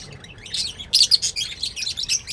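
A small bird chirps in quick, high, sharp bursts close by, a busy run of tweets with no one talking.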